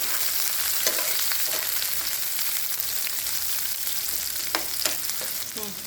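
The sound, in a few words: frying ingredients for brinjal curry in a pan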